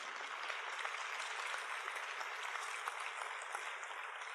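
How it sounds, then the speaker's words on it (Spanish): A church congregation applauds during a Spanish-language service, a dense, steady wash of many hands clapping at moderate distance, fairly soft and unbroken throughout with no voices over it. "Y denle un aplauso porque se lo merecen."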